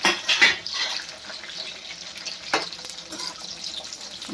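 Green chillies frying in a pan of hot oil for a broad bean chutney, with a steady close sizzle and a few clatters of stirring.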